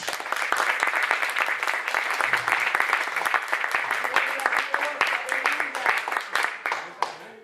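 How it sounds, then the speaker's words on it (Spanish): Church congregation applauding Jesus during a sermon, a sustained wash of clapping with sharp individual claps standing out, thinning toward the end, with faint voices mixed in. "Denle un aplauso a Jesús."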